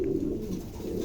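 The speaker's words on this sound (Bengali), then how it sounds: "খুবই কোয়ালিটিফুল কবুতর" King pigeons cooing close by, a low throaty burbling coo that runs steadily through a short moment with no voices.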